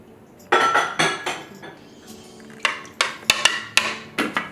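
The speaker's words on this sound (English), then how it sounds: "Next we'll pour the syrup." Pots, pans and utensils clink in a home kitchen while syrup is poured into a passionfruit juice mixture, with a cluster of sharp metallic knocks early on and then several spaced clinks toward the end.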